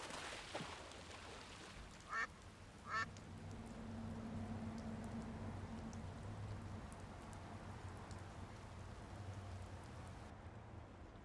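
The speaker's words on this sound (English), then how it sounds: "This noisemaker seems to appeal to the ducks." Ducks quack twice in quick succession in the point-and-click adventure game Secret Files 2. The short, faint calls sit over a soft, steady rain-like hiss.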